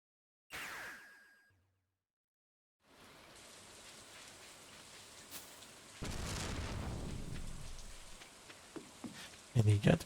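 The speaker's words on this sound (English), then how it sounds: "he got to come home to a valley full of rain and thunder" Rain and thunder in the farming game Stardew Valley: a steady patter of rainfall, a deep rumble of thunder rolling in midway, and a few sharp thumps near the end.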